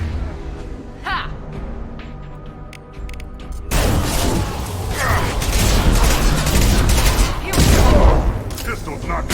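Pistol gunfire in the video game Mass Effect 2, heard as sharp repeated shots and mechanical clatter within a dense, loud burst of combat noise, with quieter game sounds before it and a voice speaking over parts.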